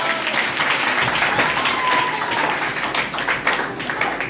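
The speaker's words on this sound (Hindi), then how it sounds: "अपने लिए, अपने देश के लिए ताली बजा दीजिए।" Children clapping together in a long, dense burst of applause that stays loud and steady throughout, with faint voices mixed in.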